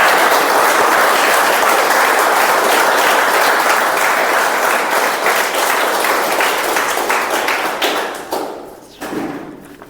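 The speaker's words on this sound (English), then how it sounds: "let us give a thundering round of applause to all our contestants" Applause for contestants at a speech contest meeting, loud sustained clapping from the audience with some sharp individual claps, tapering off into scattered final claps near the end.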